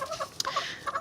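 Scared backyard chickens squawk and cluck close by in quick, overlapping bursts, moderately loud with short gaps between calls.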